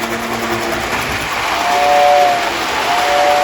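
A Lionel model train whistle, powered through a ZW transformer, sounds in two steady tonal blasts over a constant rumbling hum, the second starting after a short gap.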